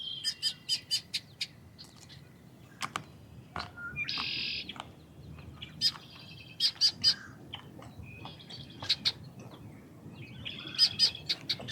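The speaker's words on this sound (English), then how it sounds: "what kind of birds are those? Those are pretty." Several birds chirp and sing in repeated short bursts and brief trills near a spring lakeside fishing spot in Minnesota, loud and clear over a low outdoor background, with no talking.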